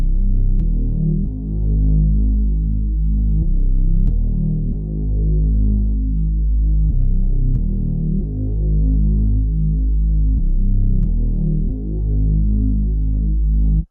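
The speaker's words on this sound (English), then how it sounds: "this is again from the Freak 2 VST, and I'm using the Hyper Sub bass" Deep Hyper Sub bass from the Freak 2 VST synth, dry with no effects, follows root notes in long sustained throbbing tones, loud and continuous, shifting pitch every couple of seconds with faint clicks at note changes.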